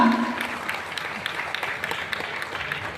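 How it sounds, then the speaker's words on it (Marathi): Applause from a gathered crowd welcoming Deputy Chief Minister Eknath Shinde at a public function in Dharashiv, a scattered wash of clapping at moderate loudness following a brief amplified voice at the start. "प्रचंड अशा टाळ्यांच्या गजरामध्ये आपण स्वागत करायचं आहे"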